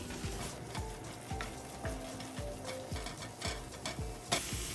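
Horse gram dry-frying in a pan, a steady close sizzle broken by regular scraping strokes of a spoon about twice a second, with no voices.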